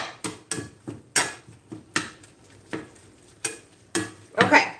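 A flour and sauce base for beef enchiladas cooks in a pan, with repeated scraping and stirring strokes in an irregular rhythm over a soft sizzle, close and fairly loud.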